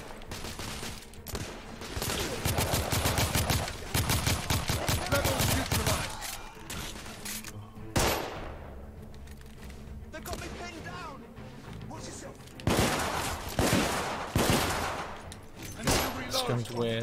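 Gunfire in the video game The Order 1886: rapid bursts of loud shots in several volleys with short gaps, and a player talking over the shooting.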